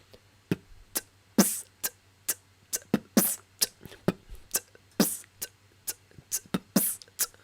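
A beatboxer slowly builds a rhythm out of crisp mouth-made closed hi-hat ticks mixed with heavier percussive bursts, close and dry, each sharp click spaced out in a relaxed pattern; the voice imitates drum-kit sounds.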